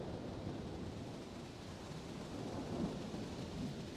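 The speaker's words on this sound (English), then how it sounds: "Now here come the planes." Military planes pass overhead, producing a faint, steady, distant roaring rumble that swells slightly near the end, with no voices.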